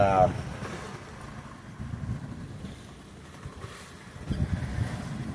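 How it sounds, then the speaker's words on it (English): Strong wind of about 20 knots at sea with whitecaps, heard aboard a sailing boat as a steady low rushing roar with wind buffeting the microphone and gusts swelling toward the end. "it's definitely blowing 20 out there. I mean, whitecap's almost getting greenies now, so solid 20 knots of wind."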